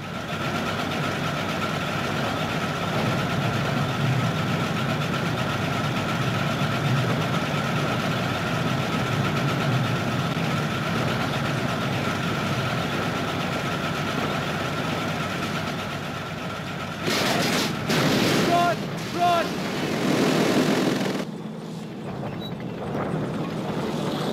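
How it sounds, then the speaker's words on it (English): A panzer tank engine in the Call of Duty video game rumbles steadily with a low mechanical drone and a droning hum, sustained and moderately loud, then gives way to brief bursts of other noise near the end. "Sounds like a panzer, but where's it coming from?"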